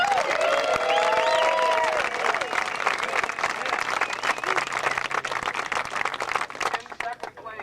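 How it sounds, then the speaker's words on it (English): Sustained audience applause at a disc golf world championship awards ceremony in Ann Arbor, Michigan, loud and steady clapping that fades slightly toward the end, with a voice briefly audible over it near the start. "please give a big round of applause for Jesper Lundmark"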